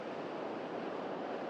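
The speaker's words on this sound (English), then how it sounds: "when you can just see the waves breaking" Rough sea waves break and wash in a continuous broad roar at the coast, steady and fairly distant, with wind rushing across the microphone and no voices.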